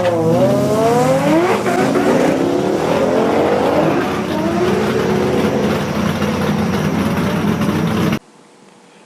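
A 2J-powered drag car launches hard from a Heathcote drag strip, engine roaring and revving loudly with rising harmonic sweeps and tire noise, sustained for about eight seconds before cutting out abruptly.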